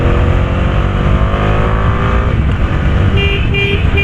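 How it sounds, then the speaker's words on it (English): A Bajaj Dominar 250 motorcycle's 250cc engine pulls hard under acceleration, a loud continuous drone with rising tone heard close up over wind rush. "The power is really brisk, man. The power is really nice. This motorcycle pulls quite well."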